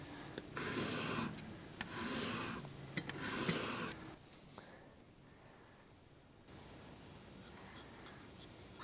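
A knife edge is drawn across a diamond grit stone in three steady gritty strokes, each lasting about a second, followed by quieter scraping and pauses, close and alone.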